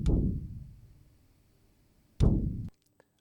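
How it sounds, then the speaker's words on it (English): A bass drum head recorded very close to the mic, lightly tapped twice: a deep, booming thump that rings out and decays slowly, then a second hit about two seconds later that is cut short. "recording a drum head on its own, really close to the microphone, and then just very slightly tapping it"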